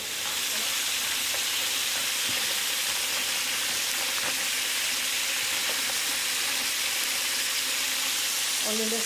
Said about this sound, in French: On les laisse bien revenir dans la casserole.